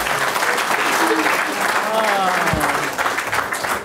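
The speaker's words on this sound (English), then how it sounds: "I'd like to have another round of applause for the panel." Audience applause for a panel at a community event on African Nova Scotian experiences with homelessness, a steady dense clapping wash held throughout at close range, with some voices mixed in.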